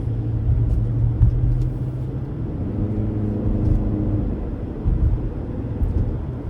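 A Toyota RAV4 Hybrid XSE cruises on a road at around 60 km/h, giving a steady low rumble of road and engine noise inside the cabin with slight swells and no talking.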